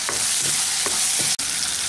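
Spice paste fries in oil until the oil separates, producing a loud, continuous crackling sizzle close by, broken by a few soft stirring strokes and one momentary dropout.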